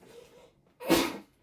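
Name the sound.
sneeze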